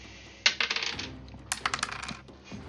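Dice rolled for initiative in a tabletop game: a close, bright burst of clicking tumbles and clatters on a hard surface, a pause, then a second run of sharp rattling impacts, with no voices.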